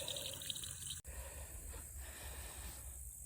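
A garden hose fills a water trough in a piglet pen, a soft steady rush and trickle of running water heard faintly and continuously.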